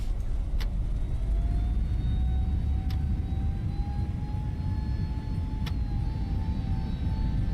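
Airbus A321neo engines spooling to takeoff thrust in a flight simulator, a steady loud broadband roar with a faint rising whine and a few brief clicks, continuous throughout with no talk.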